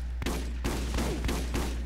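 Rapid gunshots from a weapon in the co-op shooter Borderlands, five sharp loud reports at a steady rhythm over a constant low hum, no voices.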